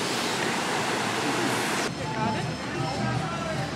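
A creek beside a small outdoor yoga studio in Costa Rica flows with a steady broadband rush, loud and close at first, then softer and more distant after a sudden shift, with voices faintly audible.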